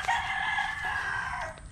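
A rooster on a farm crows in one sustained, loud, close call that lasts nearly two seconds before trailing off, with no talking.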